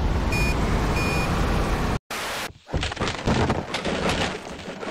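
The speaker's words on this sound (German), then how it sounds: "Wie der LKW einfach mal versucht, hier vorbeizukommen" Truck reversing beeps in a video game: a few short repeated electronic tones sound early, over steady loud engine and traffic noise, before a brief dropout and a burst of crashing, cracking noise.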